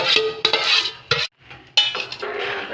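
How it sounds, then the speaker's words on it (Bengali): Jaggery melted in milk is stirred in a pot, a spoon scraping and clinking against the metal in irregular close strokes with brief pauses and a faint sizzle beneath. "নাড়িয়ে নাড়িয়ে নাড়িয়ে নাড়িয়ে"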